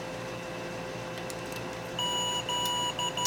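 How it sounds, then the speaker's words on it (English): Faint electronic beeps chirp over a steady hum from an antenna tuner that has lost communication with an Icom IC-7300 radio, starting softly then repeating in short tones toward the end. "my tuner lost communication with the radio, so that's why it's beeping at me."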